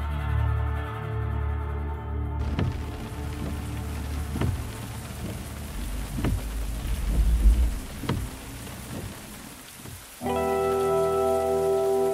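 Steady rain falls outdoors with several loud thunder cracks and rolling rumbles, while sustained tonal sounds sit at the opening and closing moments.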